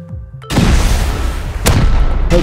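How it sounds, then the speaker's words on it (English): Loud rocket explosions in the video game Rust during a raid, a heavy boom cutting in after a brief quiet moment, followed by further sharp blasts and crackling debris, close and dominant. "He's in the window, shooting a rocket in the window."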